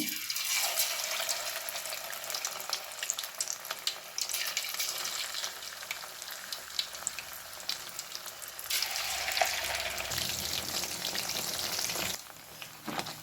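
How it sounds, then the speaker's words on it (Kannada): Fish, a local catch called bhoothai, sizzles steadily in hot oil in a home kitchen, with a dense, continuous crackle. Near the end it briefly drops and changes, as though pieces are being moved. "ನೋಡಿ ಮೀನು ಚೆನ್ನಾಗಿ ಫ್ರೈ ಆಗ್ತಾ ಉಂಟು"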